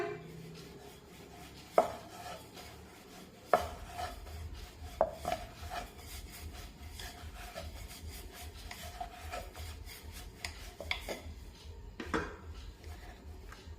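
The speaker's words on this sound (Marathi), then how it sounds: "आणि आता हलक्या हाताने पोळी लाटून घेऊया" A rolling pin works sesame-jaggery flatbread dough dusted with rice flour, giving soft rubbing and rolling strokes with a few sharper knocks against the board, quiet and close.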